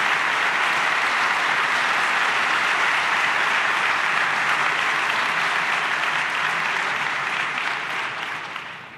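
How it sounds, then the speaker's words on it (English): Sustained applause from an audience at a political speech by a US vice president, dense and steady clapping for the whole stretch, easing off slightly near the end, no talk over it. "with that rousing round of applause"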